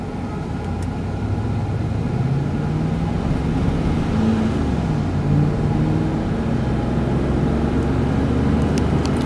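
A 2004 Isuzu Ascender on a test drive, heard from inside as a steady engine and road drone with gradual pitch shifts as it moves through the gears and slows.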